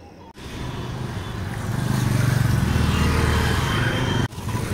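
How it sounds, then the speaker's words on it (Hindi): Motorbikes squeeze past in stalled traffic on a forest road, their engines close and loud, swelling into a sustained droning roar before it cuts off sharply. "अचानक से गाड़ियाँ आ रही है, पीछे से बाइक्स आ रहे हैं।"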